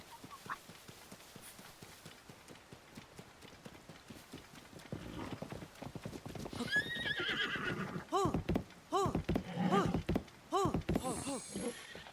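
Horse hooves clip-clopping in the video game Zelda Tears of the Kingdom, a steady rhythmic run of hoofbeats with whinnies, loud in the second half, while a person talks over it.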